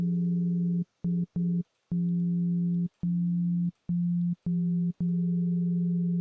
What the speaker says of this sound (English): So now you hear it's playing all those frequencies.